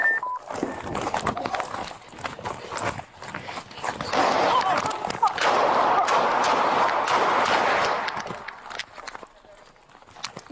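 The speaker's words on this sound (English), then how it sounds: "Shots fired. Shots fired." Gunshots ring out during a tense police bodycam confrontation with an armed man, a dense burst of loud, sharp cracks packed into the middle of the clip amid shouting, rustling and movement, with voices heard throughout.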